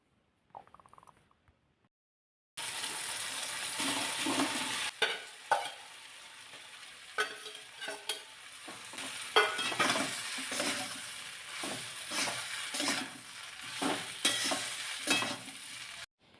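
Leftover cooked rice being stir-fried in a pan with sambar masala, a steady close sizzle broken by repeated scraping and clinking stirs, all without talk after a short quiet opening.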